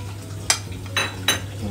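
Fish cutlet mixture of ground fish being stirred in a frying pan, three short scraping strokes of a spoon against the pan over a low steady background hum, close and fairly quiet.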